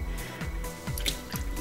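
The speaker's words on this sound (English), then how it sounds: "Pour some of the water in there." Water is poured into a gold pan of pay dirt, giving close wet splashing and dripping with soft squishy sloshes in an uneven rhythm.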